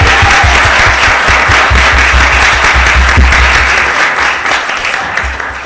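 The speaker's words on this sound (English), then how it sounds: "one last round of applause for this great team" Sustained applause from a council meeting audience honouring a team, steady dense clapping that stays loud throughout and eases slightly near the end.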